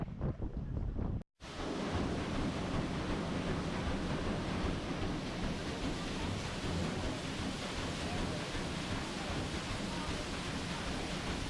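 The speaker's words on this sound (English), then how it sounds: "There's a nice stiff breeze today on the river" Steady, heavy river breeze rushing and buffeting the microphone aboard the Steamboat Natchez in New Orleans, with a brief dropout near the start, then constant loud roaring gusts and faint water wash.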